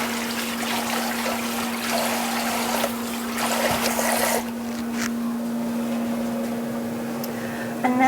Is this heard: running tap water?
yes